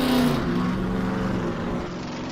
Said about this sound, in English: That's an 8-cylinder big block, 427 cubic inch stuffed under the hood of that Corvette.